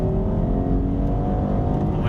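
A Holden Captiva Series II V6 engine revs hard to 6,000 rpm, a loud sustained roar with a rising whine, heard from inside the SUV.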